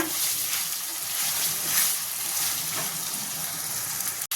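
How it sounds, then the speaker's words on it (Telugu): Chicken frying in a pan over a high flame, a steady, loud sizzle and crackle of hot oil filling the whole stretch, with faint stirring and a sharp click near the end. "ఒక 3 నిమిషాలు హై ఫ్లేమ్లో ఫ్రై చేసుకోవాలి చికెన్ని."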